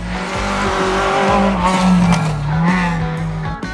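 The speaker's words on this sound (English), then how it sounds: "It's like a race car going round the bend of a racetrack." A race car corners hard on a racetrack, tires squealing in a loud, wavering screech over a steady engine drone for a few seconds, alone with no voices.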